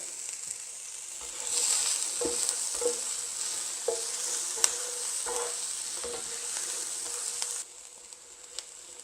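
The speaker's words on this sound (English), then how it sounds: "put one chopped onion back in the pan just to saute it up" Chopped onion sautés in a pan with a bright steady sizzle, punctuated by stirring scrapes and soft clacks every second or so, then a quieter stretch at the end.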